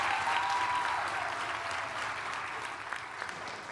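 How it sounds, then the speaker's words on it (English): Warm applause from an audience at a school district address honoring middle school student engineers. It is strongest at the start and gradually softens over nearly four seconds, with scattered individual claps near the end. "Let's give them another round of applause."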